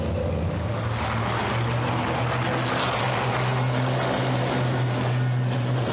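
Racing trucks, Iveco and Freightliner, running the Hungaroring circuit at the FIA European Truck Racing Championship, a steady loud engine drone sustained throughout with no break.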